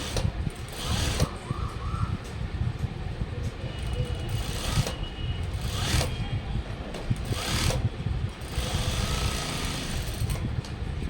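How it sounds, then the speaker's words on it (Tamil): A sewing machine running steadily while stitching a blouse neckline, with a continuous close mechanical whir that pauses briefly a few times. "இப்போ நம்ம கழுத்து அடித்தாச்சு."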